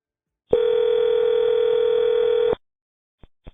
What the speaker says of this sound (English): Lisi started calling his contacts from the Dixon area